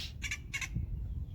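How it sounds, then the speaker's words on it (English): Outdoors in the Phoenix area, a bird gives two loud, harsh squawks in quick succession over a low background rumble. "if this bird ever freaking shuts up"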